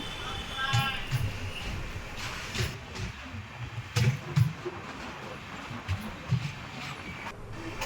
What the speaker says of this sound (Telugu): మన ట్రైన్ అయితే స్టార్ట్ అయిపోయింది మంగళగిరి నుంచి